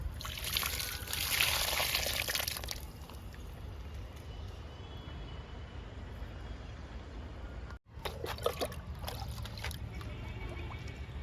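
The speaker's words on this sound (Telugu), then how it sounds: "మళ్ళీ మొక్కకి వాటర్ ఇస్తున్నా" Water trickles and splashes steadily, loudest at first and then a softer, continuous pour, with a brief break near the end before it resumes.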